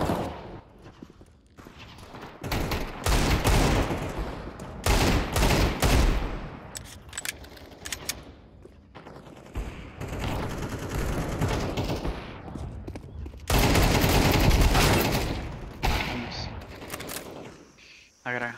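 Bursts of rapid gunfire from Counter-Strike 2 come in loud clustered volleys separated by quieter gaps, with short breaks of softer in-game noise between the heavy stretches of shooting.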